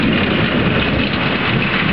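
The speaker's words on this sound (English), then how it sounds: "It's pouring." Heavy rain pours steadily during a brutal 2009 thunderstorm in Barrie, water streaming off a roof; a dense, loud, unbroken roar of rainfall with no voices.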